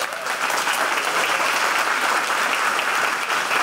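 An audience claps steadily throughout, a dense, even wash of applause at moderate loudness with no voices standing out.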